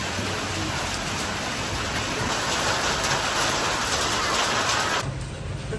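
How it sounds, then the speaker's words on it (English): Heavy tropical rain in Kuala Lumpur, Malaysia, hisses in a loud, unbroken downpour for several seconds before easing sharply near the end. "Tropical rain."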